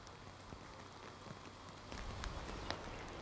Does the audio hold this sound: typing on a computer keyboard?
no